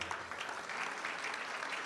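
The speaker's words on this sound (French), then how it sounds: "Vous pouvez les applaudir bien fort." Audience applause at a healthcare conference on coordinated care pathways, a steady dense wash of many hands clapping throughout, moderately distant and sustained without talk.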